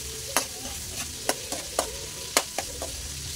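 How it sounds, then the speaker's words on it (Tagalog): Garlic frying in a pan for a mixed seafood home-cooked dish, with a constant crackling sizzle punctuated by several sharp spatula scrapes and taps at irregular intervals, close and without talk. "Medyo pa pula-pulahin lang natin yung bawang."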